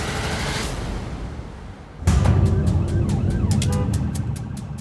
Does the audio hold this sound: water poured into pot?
no